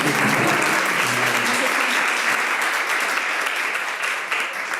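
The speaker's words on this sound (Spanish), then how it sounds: "Un aplauso." Loud, dense applause from an audience at a university course closing ceremony in Málaga, continuous and full from start to finish, with a low murmur of voices briefly underneath at the beginning.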